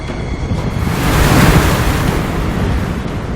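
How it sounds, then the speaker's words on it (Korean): Rough sea waves crash around a fishing boat out on open water in overcast, stormy weather, with gusting wind buffeting the microphone. The roar is loud and continuous, swelling slightly mid-way, with no voices. "매섭게 몰아치는 파도."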